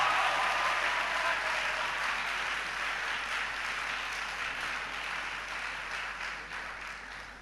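Sustained, dense audience applause at a WAEC distinction awards ceremony greets Dr. Cynthia Asamoah Jima, head of St. Monica's Senior High School. The clapping holds steady and tapers slightly, with no talk over it.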